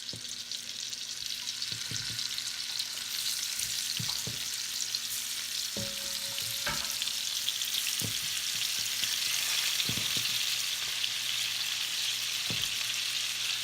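Large shrimp sizzling in a pan on medium-high heat, a constant bright frying hiss with occasional clicks and scrapes of stirring, close and steady with no talk.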